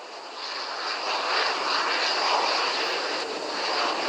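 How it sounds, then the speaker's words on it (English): A SpaceX Falcon 9 rocket's Merlin engine roaring during ascent, a steady loud broadband rumble that holds constant throughout with no speech. "Now the Merlin engine's coming back up to full power as we get ready to go supersonic."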